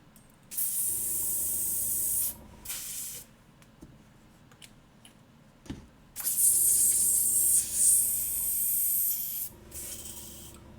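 Airbrush spraying paint onto a miniature, a steady hiss in two long bursts with a quiet gap between them, close and loud with no talking.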